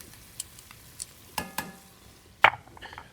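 Onions and garlic go into hot pork chop fat over high heat, giving a quiet steady sizzle broken by a few sharp clatters and stirring knocks, one especially loud, with no voices.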